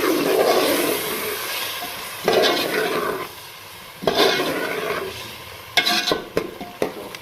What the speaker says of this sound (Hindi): दही को हमने अच्छे से मिक्स कर लेना है मसाले में।